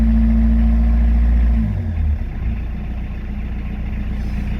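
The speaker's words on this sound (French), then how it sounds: "Maintenant on va donner quelques coups de gaz pour voir ce que ça donne." A car engine, freshly fitted with an oil pressure gauge and sensor, runs loud and close, holding a high drone before dropping to a steady lower idle.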